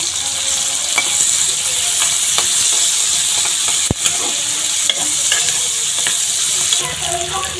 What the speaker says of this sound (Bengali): পেঁয়াজগুলো একটু হালকা ভাজা ভাজা করে নেব।